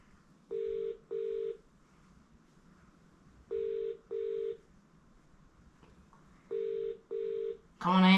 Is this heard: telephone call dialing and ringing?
yes